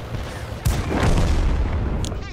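Tank cannon shot in World of Tanks: a single heavy boom with a rumbling tail that lingers over engine and battle noise, fairly loud and near.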